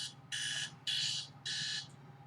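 A phone alarm sounds in short repeated electronic bursts, three loud buzzing pulses with brief gaps and a faint fourth at the end, close by and alone.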